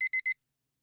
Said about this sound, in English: The alarm beeps.